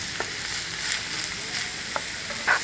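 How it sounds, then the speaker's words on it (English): Ginger, garlic and onions sauté in a hot pan, giving a steady close sizzle with a few light scraping stirs. "Now saute this until light pink in color."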